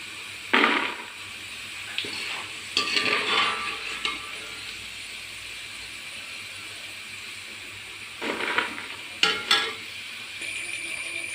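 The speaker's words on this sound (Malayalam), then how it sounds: "ഇതുപോലെയാണ് ഞാൻ വറുത്ത് കോരിയേക്കണേ ഏത്തക്കായ ഫ്രൈ ആക്കാനായിട്ട്" Raw plantain pieces fry in hot oil for a curry and are stirred and scooped out, giving intermittent bursts of sizzling and stirring between quieter stretches of low hiss.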